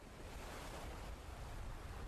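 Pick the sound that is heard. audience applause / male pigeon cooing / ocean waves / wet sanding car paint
ocean waves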